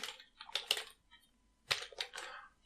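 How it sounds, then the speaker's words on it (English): Code being typed on a computer keyboard, two short quiet bursts of rapid key clicks separated by a pause, close and alone. "I'm simply going to go here and type"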